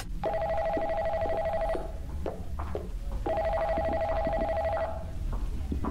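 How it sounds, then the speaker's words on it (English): A telephone rings in the horror video game The Notzing Project, with two bright electronic ring bursts of about one and a half seconds each, separated by a short gap, sounding loud and close. "Pick up the phone already!"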